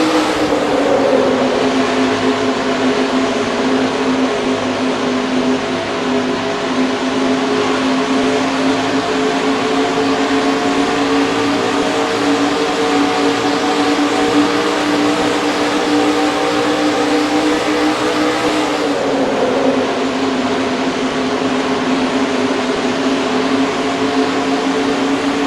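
Onboard engine of the number 51 stock car in NASCAR Racing 2003 on a 2.5-mile triangle oval, a loud, steady full-throttle drone lasting the whole stretch, with a brief pitch shift near the end.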